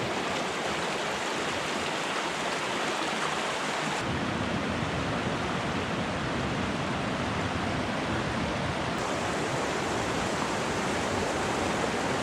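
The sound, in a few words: Swan River flowing, Colorado Trail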